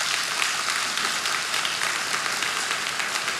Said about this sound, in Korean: 다시 한번 격려와 주님께 영광의 박수 올리시겠습니다